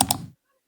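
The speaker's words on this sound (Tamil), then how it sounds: "2 கிளிக்கான சவுண்ட் எஃபெக்ட் வந்துச்சு." Two quick, crisp mouse clicks in rapid succession, close and sharp, followed by silence.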